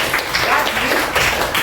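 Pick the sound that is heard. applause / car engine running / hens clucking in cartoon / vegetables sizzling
applause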